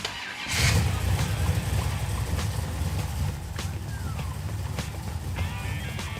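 A 540-horsepower Hemi V8 in a Plymouth Satellite Road Runner cranks and fires up, then settles into a loud, rumbling idle with a deep, steady low throb close by.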